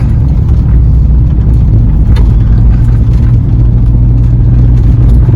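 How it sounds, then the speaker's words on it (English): A small Fiat car driving on a snowy winter road, its engine and tire rumble loud and close, steady and low throughout. "for a little car like this Fiat, it makes fun on the road because it can slip and slide a little bit"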